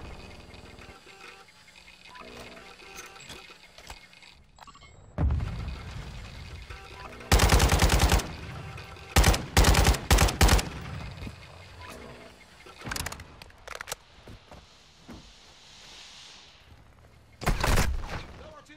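Gunfire aimed at the player in Call of Duty Warzone DMZ, heard as several loud, sharp bursts of rapid shots mid-clip and again near the end, with quieter game ambience between them.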